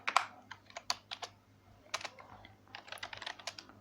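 Scattered bursts of quiet keystrokes on a computer keyboard come in short clusters with brief pauses between them, close and clear, with no talking.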